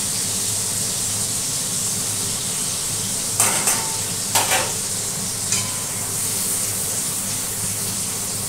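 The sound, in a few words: crushed cardamom and cinnamon frying in hot oil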